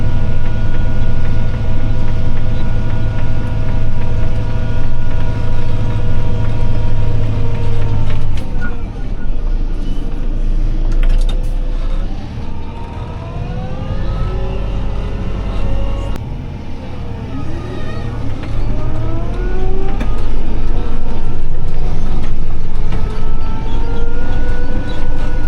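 Tractor pulling a rotary hoe over cereal crops, its engine close and loud with a strong droning hum; the pitch dips and sweeps back up mid-pass as revs change, over a constant rattling rumble.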